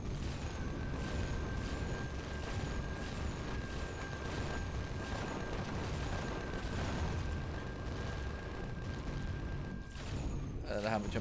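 Turret gunfire in Empyrion Galactic Survival rattles on steadily through a space battle, a dense constant barrage of booms and shots with a thin electronic tone running beneath and talk over the top.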